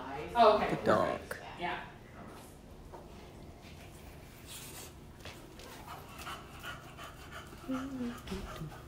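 A dog pants in quick rhythmic breaths close by during an errand outing, steady and fairly quiet, under people talking.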